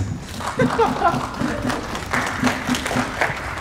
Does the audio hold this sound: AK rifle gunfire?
no